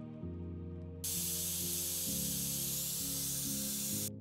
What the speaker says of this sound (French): on va essayer le spray à l'endroit